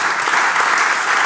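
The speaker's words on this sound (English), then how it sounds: "Give them a big applause." Steady, dense applause from a conference audience at a Scrum Day Europe event, loud and continuous throughout the short stretch with no pauses.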